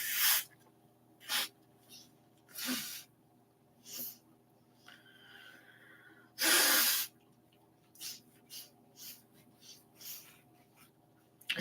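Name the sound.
blowing nose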